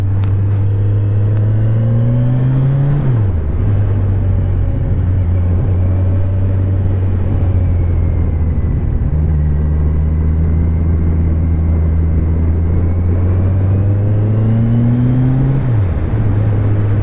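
Kawasaki Ninja 1000 SX motorcycle engine on a ride, a steady close droning note under wind rush that climbs with throttle and drops sharply on gear changes twice.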